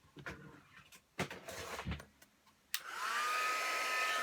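Some close handling clatter, then a heat tool switches on and blows hot air over inked artist trading cards with a steady loud whir through the end.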